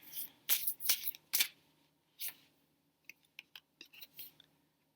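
Tarot cards being shuffled close up: a few crisp riffling bursts, then a run of light, quick card taps and flicks that fade out, with no talking.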